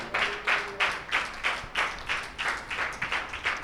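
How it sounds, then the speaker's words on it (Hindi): A church congregation claps for Jesus in rhythmic unison, about eight steady beats across a few seconds, loud and close, filling the hall without any talk over it. "यीशु मसीह के लिए जोरदार तालियां बजाएं"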